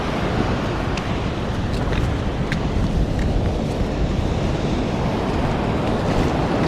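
Small sea waves washing over a rocky shoreline while the tide drops, a constant rushing wash with wind buffeting the microphone and faint splashes.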